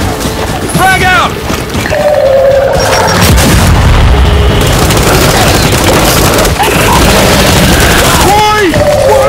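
Grenade blasts in the Gears 5 video game land as heavy, loud booms within dense combat noise, with gunfire and shouted voices layered over the explosions.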